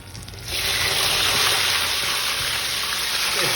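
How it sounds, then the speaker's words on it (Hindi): Spiced chicken tikka drops into hot oil for deep frying, and after a short quiet moment a loud, steady, close sizzling hiss bursts up and continues without any talking. "1 या 30 सेकंड या 1 मिनट के लिए फ्राई, डीप फ्राई, क्योंकि इसके ऊपर क्रिस्प कोटिंग आ जाएगी।"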